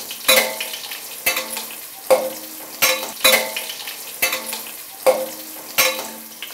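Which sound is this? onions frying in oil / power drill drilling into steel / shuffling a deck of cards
onions frying in oil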